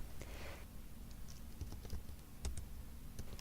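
Someone types Ruby code on a computer keyboard, a faint, irregular patter of quick keystrokes with short pauses between bursts.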